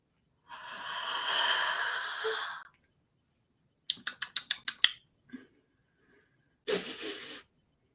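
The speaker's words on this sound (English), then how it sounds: "Can we take a deep breath?" A group of people take a long, deep breath in a home storytime setting, with one sustained inhale followed by a quick run of short sniffing breaths and a final breathy exhale, all close and without talk.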